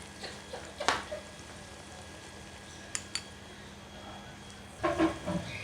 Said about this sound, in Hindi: अब हम इसमें 2 टेबलस्पून जो है वो लहसुन अदरक का पेस्ट शामिल करेंगे।